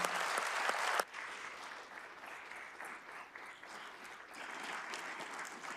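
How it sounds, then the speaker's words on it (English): Audience applause closing a Caltech team's presentation at a NASA JPL innovation forum, a sharp burst of clapping that drops after a second and continues as steady, moderately distant applause. "let's give Caltech a round of applause"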